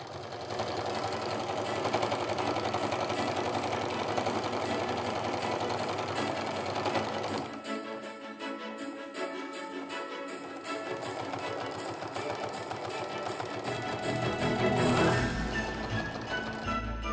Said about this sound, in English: gonna take a little bit of a generous quarter inch seam, maybe 3/8 of an inch would be good.